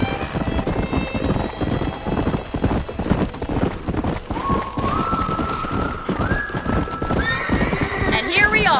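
Horses ridden at a gallop with spurs in the Red Dead Redemption western game, steady clip-clopping hoofbeats and repeated whinnies running throughout, close and loud over a music score with voices talking.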